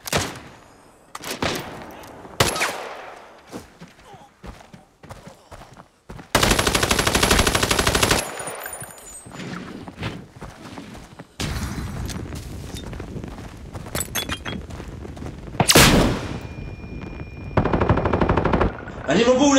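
RPD machine gun fired in long drum-emptying bursts in the Arena Breakout shooter game, loud sustained rattling volleys broken by short pauses and single shots, with booming impacts and occasional game voice sounds.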